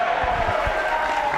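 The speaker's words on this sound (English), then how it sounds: "That deserves a big round of applause." A studio audience applauds and cheers, a brief, steady wash of clapping and crowd noise at moderate loudness with no one speaking over it.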